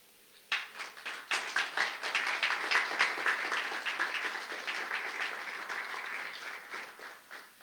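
A church congregation at a men's conference applauds together, a dense wash of clapping that starts abruptly, holds steady and slowly thins, moderately distant and heard on its own.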